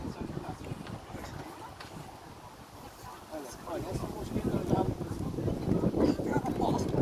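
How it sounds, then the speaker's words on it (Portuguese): Outdoor wind buffeting a microphone: continuous low rumbling gusts that swell louder toward the end, under intermittent talking voices. "é o vento, a culpa é do vento"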